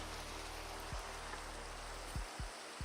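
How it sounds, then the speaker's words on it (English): Steady, even rain hiss from the video game Minecraft falls continuously, with a few soft low thumps mixed into the downpour. "The rain is beautiful."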